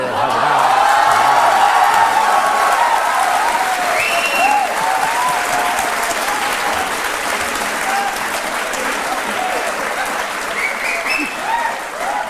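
A studio audience on an Indian television courtroom-style talk show breaks into loud, sustained applause, with cheers and scattered whoops rising over the steady clapping throughout.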